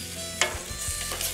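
Chicken goes into a pot of boiling coconut curry with a soft splash, then a spoon stirs it amid steady bubbling and sizzling, close and moderately quiet, with no talking.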